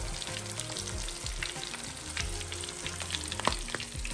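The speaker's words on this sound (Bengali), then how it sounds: "বড় বড় তিন পিস বল ফিশ ফ্রাই করলাম" Three large fish balls fry in hot oil, well done and turning crisp, giving a steady close sizzle with popping crackles and a few brief stirring clatters.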